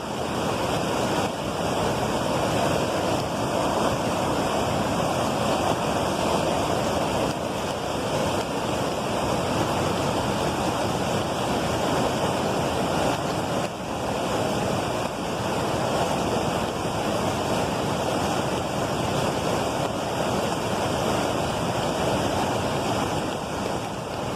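Rushing river water surges powerfully past a crossing couple, a loud, continuous roar of turbulent flow with a wind-like wash, steady and close for the whole stretch with no talk.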